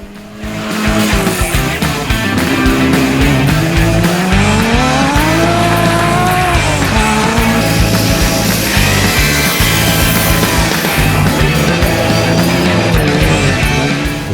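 Off-road race cars roar around a 25 km prologue course at a Bencubbin 400 event, loud engines rising and falling through gear changes as one passes close, a sustained racing drone throughout with no talk.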